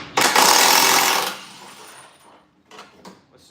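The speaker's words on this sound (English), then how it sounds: "I'm going to take out these subframe bolts one by one" An impact wrench runs on the subframe bolts of a Ford Fusion Hybrid in a loud, close burst of about a second. Softer metallic clinks of tools and parts follow.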